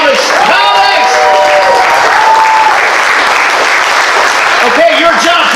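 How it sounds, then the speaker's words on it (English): Audience applause for graduating comics at a stand-up comedy graduation show, a steady wash of clapping with whoops and cheering voices rising over it at a lively club gathering. "Can everybody give a big round of applause for all of your graduating comics?"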